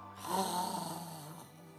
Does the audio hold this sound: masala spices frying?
no